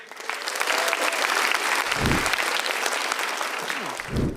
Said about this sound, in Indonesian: Beri tepuk tangan yang meriah untuk Ratanca.